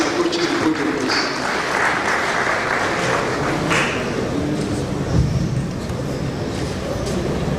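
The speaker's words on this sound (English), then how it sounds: "A round of applause as he approaches the podium, please" Audience applause at the 43rd NBM of Africa National Convention as a speaker walks to the podium, a steady, dense wash of clapping filling the hall with some talk and crowd noise mixed in.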